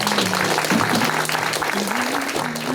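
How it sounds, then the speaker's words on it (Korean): An audience at a Korean CBS inauguration and plaque ceremony applauds warmly, a full, sustained round of clapping with a low hum and murmured voices running underneath. "하나님께 감사와 두 분께 뜨거운 박수를 한번 다 같이 보내주세요"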